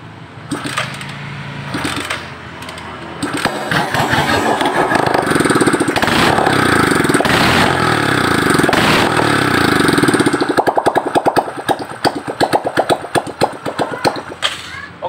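A motorcycle with new piston rings and valve seals that still blows white smoke starts up and idles loudly and close, its rapid uneven putter settling into a steady chug, with brief talk.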